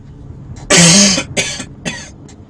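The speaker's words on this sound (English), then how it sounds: "And I have to cough again, I apologize." A harsh, loud cough followed by two or three smaller coughs in quick succession, close to the microphone, with no talking, over the video game Thief: Deadly Shadows.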